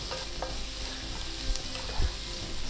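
Onions sautéing in butter in a pan for paneer butter masala, a steady soft sizzle with occasional stirring scrapes and knocks of the utensil, close and without talk.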